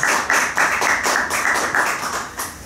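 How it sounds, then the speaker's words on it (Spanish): An audience at a café evening event applauding, dense clapping from a small crowd with rhythmic pulses, fairly close and loud, steady throughout without talk. "Un aplauso para ella."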